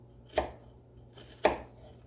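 Knife slicing through an onion on a cutting board, two distinct sharp chops about a second apart, close and clear with no talking.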